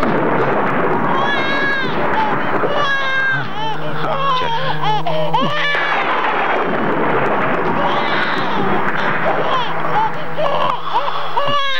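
A baby cries in high, wavering wails amid loud, chaotic noise with thumps and bangs, with no other sound standing clear of the din.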